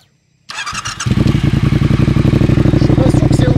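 After a moment of silence a motorcycle engine catches and settles into a loud, rapid, throbbing idle with a steady pulsing beat, close by.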